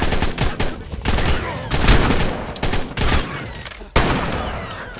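In ARK, a player fights an alpha raptor with a shotgun, and loud blasts go off in uneven bursts of several shots with dense chaotic rattling between them while voices shout in the background.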